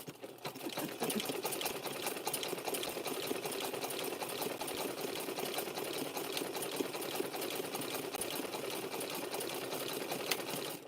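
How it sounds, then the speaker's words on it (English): A rare Singer sewing machine runs continuously while stitching rope into a chain, a steady close mechanical whir with a fast even needle rhythm from start to finish. "Come on, sew machine."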